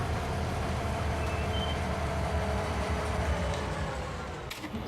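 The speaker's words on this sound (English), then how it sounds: "This is an electric train, is that right?" An electric train in Farming Simulator 19 rolls along with a steady, droning mechanical rumble and a faint whine, fairly loud and continuous, with a brief clank near the end.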